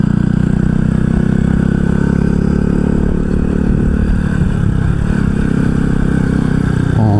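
A Honda Super Cub motorcycle on a cherry-blossom ride through Hitachi, Japan, its small single-cylinder engine humming loud and steady up close for several seconds with a continuous low drone.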